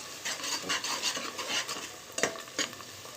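Onions fry with turmeric and salt while a spoon stirs them briskly, giving repeated scraping strokes and clinks against the pan over a bright, close sizzle, with two sharper knocks toward the end.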